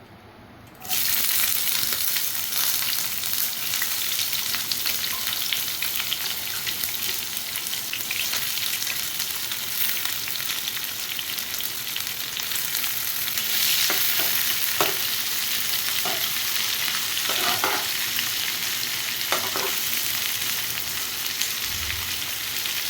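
Onions for beresta fry in oil for a paneer biryani, giving a loud, even sizzle that starts abruptly and holds for over twenty seconds, with scattered stirring clinks and scrapes.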